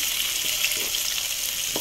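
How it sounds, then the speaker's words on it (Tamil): Onions sizzling steadily in a hot pan for broad beans poriyal, a continuous crackling hiss with a few soft stirring scrapes. "நல்லா வதக்கி விடுங்க"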